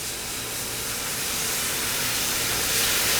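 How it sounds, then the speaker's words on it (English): White wine poured into a hot pan of risotto rice to deglaze it gives off a steady, loud, broad steaming hiss that swells slightly toward the end, with no voices over it. "I'm gonna add some white wine. I'm gonna deglaze"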